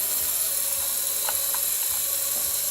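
The motors of a remote control helicopter, damaged and busted, whir steadily with a constant high-pitched buzz and faint rhythmic ticking.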